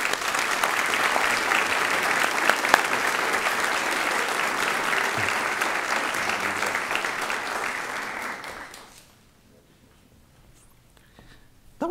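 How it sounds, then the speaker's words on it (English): An audience at a Pittsburg State University student teacher recognition ceremony claps in sustained, dense applause that fills a large room, then tapers off and fades into near silence. "Let's give her another round of applause."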